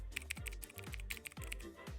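Fingers type on a Zhou-Lang mechanical keyboard in a close, quiet, steady run of crisp clicky keystrokes, alone without talk.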